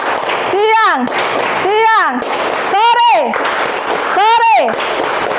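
A class performs the rhythmic "tepuk pagi" clapping chant, voices calling out in short sung bursts about four times, each with sharp clap accents, loud and close in a classroom.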